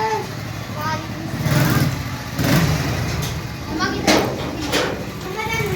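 A motorcycle engine idles and revs nearby, with children's voices and other talk in the background.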